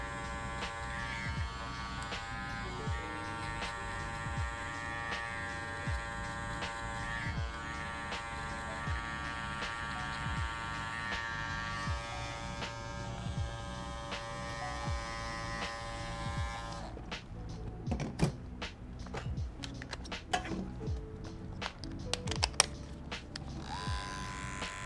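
Andis Master hair clippers buzz steadily through a taper fade, a close, continuous electric hum that holds for most of the stretch before giving way to lighter clicks and handling noises near the end.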